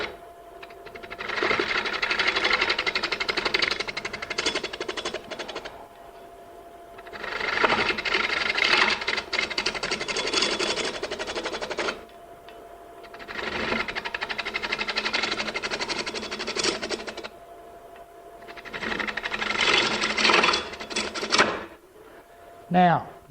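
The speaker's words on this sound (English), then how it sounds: "Now I can also use just my regular spindle gouge." Wood being turned on a lathe with a spindle gouge, four long bursts of steady cutting hiss and whir, each several seconds, separated by brief pauses, close and fairly loud.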